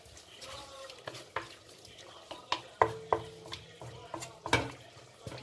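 Cumin seeds tipped into hot oil in a pan alongside whole spices for aloo mutton gosht salan, crackling and sizzling steadily while a spoon scrapes and clinks against the metal in irregular knocks, close by.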